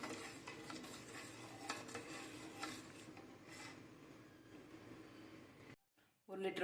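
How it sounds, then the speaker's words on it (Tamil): Milk being stirred steadily in a pan while reducing for palkova, a Tamil milk sweet, with a spoon scraping continuously against the metal for most of the clip before it briefly cuts out; a voice talks over part of it. "எடுத்துட்டு ஒரு கிளறிட்டே இருக்கணுங்க. கிளறதை மட்டும் விடக்கூடாது,"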